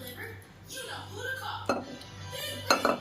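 A spoon scrapes and clinks against metal as cooked potato pani puri filling is moved into a bowl, a few sharp close knocks over a low background hum, with a person talking throughout.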